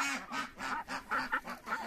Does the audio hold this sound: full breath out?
no